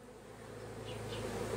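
Honey bees buzz at the entrance of a hive set up with a Cloake board for queen rearing, a soft, continuous hum heard close but faint and alone.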